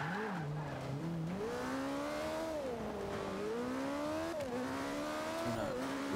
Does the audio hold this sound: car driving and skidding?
yes